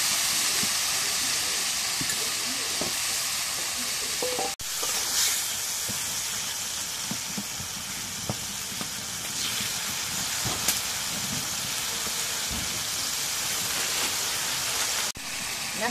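Fish frying in a cumin and garlic spice paste, a continuous loud hiss of hot oil with scattered crackles and occasional clinks of a utensil, steady and close for the whole stretch.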